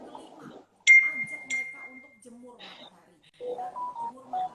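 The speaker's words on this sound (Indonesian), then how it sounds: "Ada telepon masuk, maaf ini ya." A short electronic ringtone-like tone sounds from a phone during an incoming call, alternating with people talking indoors.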